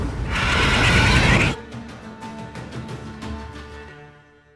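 A mare in The Witcher 3 lets out a loud, harsh scream-like whinny amid a clatter of noise, then fades into a trailing series of softer, stuttering snorts and neighs.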